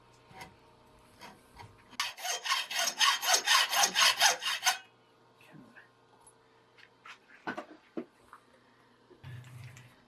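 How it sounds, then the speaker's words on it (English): A hacksaw cuts through a ramrod for a flintlock squirrel rifle in about a dozen rapid, rhythmic rasping strokes, close and clear. Scattered handling clicks and knocks follow in a quiet room. "grab the hacksaw and cut that off."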